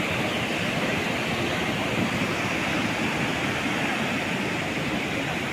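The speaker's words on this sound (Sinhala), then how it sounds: "මුහුද දිහා බලන් ඉන්නකොට ඒ ශබ්දයට ඇහුම්කන් දෙනකොට" Sea waves at Old Jaffa beach in Israel make a steady, broad rushing wash that continues without pause, with no voices.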